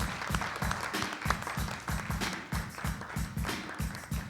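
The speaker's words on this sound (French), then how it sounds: "Je vais vous demander de l'accueillir avec le max d'applaudissements." A studio audience at a televised entertainment show in Burkina Faso applauds a singer, with steady, dense clapping that keeps an even rhythm, close and lively, with no voices over it.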